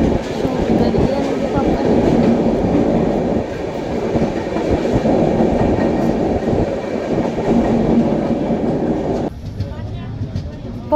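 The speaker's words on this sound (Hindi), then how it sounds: "टनल से निकल रही है गाइस ट्रेन, पूरी टनल शूट कर रही है।" A passenger train rumbles loudly out of a tunnel on the route from New Delhi toward Shri Mata Vaishno Devi Katra, steady clickety-clack and roar filling most of the clip before the noise drops abruptly near the end, with voices underneath.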